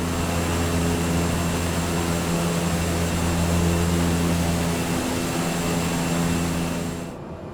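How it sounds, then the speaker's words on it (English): Propeller aircraft engine in Microsoft Flight Simulator, a steady loud drone with strong harmonic tones that holds throughout the approach and fades slightly at the very end. "Go ahead and pull my power back here, go full on the prop."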